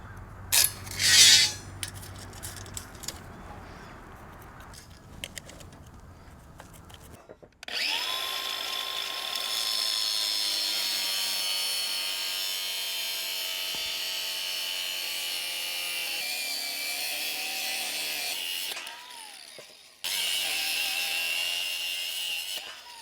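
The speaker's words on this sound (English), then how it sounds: "my goal is to try and cut it with a grinder" An angle grinder cuts through thick steel rebar for a cabin foundation, with a high, loud grinding whine that runs steadily for about eleven seconds, stops briefly, then starts again. Quieter handling noises come before the first cut.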